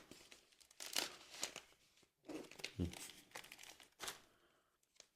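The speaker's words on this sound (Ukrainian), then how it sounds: "Також антистатичне пакування так обережно, дуже обережно відкриваємо." Crinkling and crumpling antistatic plastic packaging being handled and pulled open nearby, in uneven bursts, with a person talking over it.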